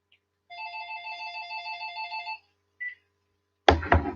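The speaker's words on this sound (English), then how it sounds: "that was my phone ringing again." A phone rings with a rapid electronic trill lasting about two seconds, a short chirp follows, then a sudden loud clatter at the end.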